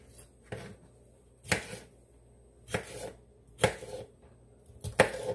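Vegetables for a Greek salad being chopped with a knife on a board, five distinct sharp chops spaced about a second apart, close and clear against a quiet kitchen.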